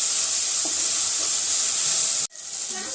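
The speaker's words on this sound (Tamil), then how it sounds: "அப்புறம் டொமேட்டோ ஆட் பண்ணிக்கலாம். ஆட் பண்ணிட்டு லைட்டாக வதக்கிட்டு காய் ஆட் பண்ணிக்கலாம்." Tomatoes sautéing in a pan while cooking a nukul sambar lunch: a loud, steady close-up sizzle that cuts out briefly near the end, then picks up again.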